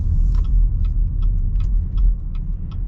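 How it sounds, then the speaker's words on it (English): Steady low road rumble inside a 2023 Chevy Blazer RS while driving, a muted cabin drone with faint light ticks on top and no talk. "Pretty quiet too, with the overall like road noise and everything."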